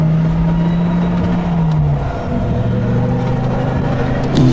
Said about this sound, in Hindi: अब गाड़ी अपने आप चलने लगती है।